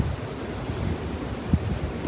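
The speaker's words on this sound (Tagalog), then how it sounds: "malamig masyado ang simoy ng hangin" Cold evening wind blows steadily outdoors on the way from Alaska to Canada, a soft broadband rush with a few low gusts buffeting the microphone, no voices.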